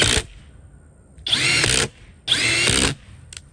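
A FLEX Quick Eject impact driver set to speed 3 drives deck screws into wood in two loud, close bursts of about half a second each, with the cut-off tail of an earlier burst and a brief whine after.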